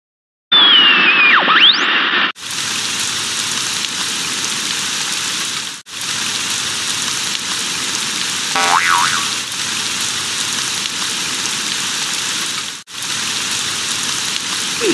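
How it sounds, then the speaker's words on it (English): Heavy rain with strong winds in the Sammy's Science House computer game, a steady loud hiss of falling rain running continuously after a brief tonal chime at the start, with a couple of short dips. "Today is warm with heavy rain"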